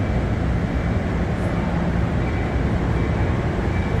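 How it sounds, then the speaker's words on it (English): A Metro North Railroad train, a Port Jervis line service, pulls into platform 6 at Hoboken with a steady, loud, broadband rumble that holds unbroken throughout. "Here comes this Metro North train."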